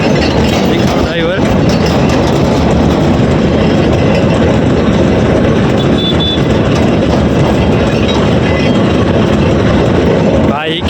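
A tractor engine runs close by on a farm outing, a loud, steady low rumble with rattling that fills the whole stretch without a break.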